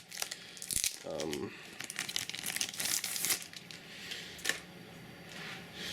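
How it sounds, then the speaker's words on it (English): Thin plastic wrap crinkles and tears off a slim Panasonic CF-AX2 ultrabook battery, with bursts of crackling and rustling close by and a short sharp snap near the middle. "Let me just free it from its plastic."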